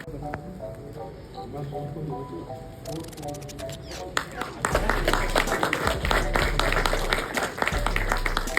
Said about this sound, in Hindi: आप सबसे अनुरोध जोरदार तालियों के साथ